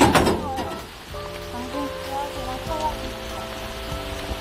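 Rain falls over a countryside cabbage farm, a steady close patter that continues under soft tonal background sounds and faint voices.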